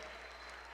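Very quiet applause from a school auditorium audience, a faint, steady patter of clapping under a low steady hum.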